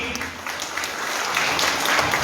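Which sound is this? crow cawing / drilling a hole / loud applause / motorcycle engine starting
loud applause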